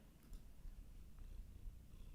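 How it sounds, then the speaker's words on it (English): A cat purring close by, quietly and steadily, a low continuous rumble with no talk over it. "Let him purr."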